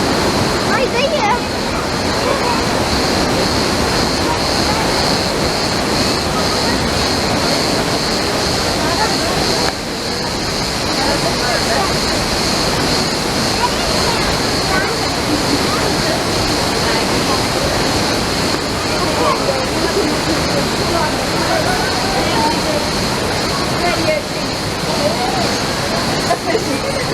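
Düden Waterfall in Antalya roars as a loud, constant wash of falling water, heard up close and unbroken throughout, with a faint steady high tone under the rush and no clear talk.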